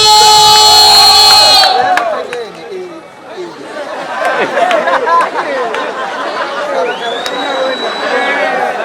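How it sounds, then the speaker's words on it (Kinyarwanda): A crowd at a stage show cheers and chatters loudly after a brief, intense tonal burst at the start, voices whooping and overlapping in a dense, continuous roar. "reka twese hamwe dukomere amashyi umukuru w'igihugu yaserukiye igihugu cy'Ubushinwa"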